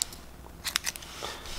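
Scissors snip through a printed label for a microSD card in a few quick, crisp cuts, close and fairly quiet, with no talking.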